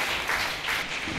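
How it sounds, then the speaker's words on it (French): An audience applauds loudly and steadily at a gospel talent show in Togo, a dense continuous wash of clapping with no voices over it. "Akakpo Mauko, je vous demande d'applaudir très très fort"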